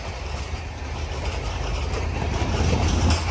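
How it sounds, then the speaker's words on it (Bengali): A Sri Lanka local train rumbles past with a steady, broad roar and low rolling wheel noise that builds slightly in loudness. "যে ট্রেন যাচ্ছে"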